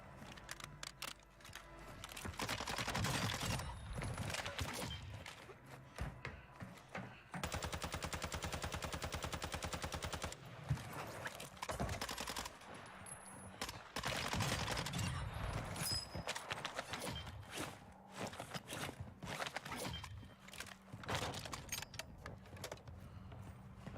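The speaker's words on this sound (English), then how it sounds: "There's always a guy up there with a sniper rifle shooting at me" Sniper rifle gunfire in the video game Warzone 2: sharp, loud shots repeat through a dense, busy battle mix, with a steady mechanical buzz holding for a few seconds midway.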